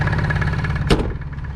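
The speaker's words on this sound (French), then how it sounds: "C'est vrai que c'est un bruit de diesel, donc ça cogne un petit peu plus qu'un essence" Diesel engine of a Ligier JS60 microcar idling with the hood open, a close, steady knocking throb with even pulses, briefly interrupted by a sharp click or knock near the end.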